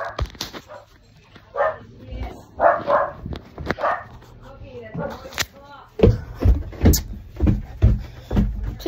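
A dog barks and yips indoors in short bursts, close and loud, mixed with a person talking and a few thuds like a door.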